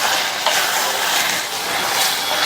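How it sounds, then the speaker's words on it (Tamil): A spoon stirs potato and green pea masala curry with chopped coriander in a pan, a soft continuous scraping and faint sizzle with a few light knocks, fairly steady and close. "நல்லா கலந்து விட்டுறலாம்."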